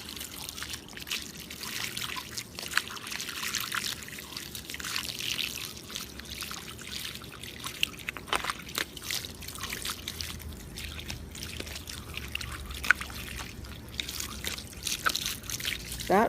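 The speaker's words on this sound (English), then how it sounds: "We'll have a little shower with the hose." Water from a garden hose rinses painted Twirlywoos toys, a steady, fairly quiet trickling and splashing stream that runs continuously with small spattering bursts.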